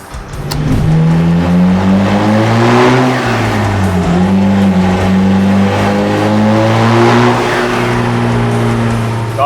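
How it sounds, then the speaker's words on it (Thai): A car engine catches and revs, its steady harmonic drone rising and dipping through a few throttle swells, loud and close, running continuously with no talk. "เดี๋ยวเราจะสตาร์ทรถ แล้วก็ รันแป๊บหนึ่งให้น้ำมันมันเข้ากับในถังนะ"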